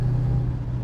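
A 1969 Dodge Charger with a HEMI and four-speed manual shifts through its gears, heard as a deep, steady engine drone from inside the car over a very short stretch.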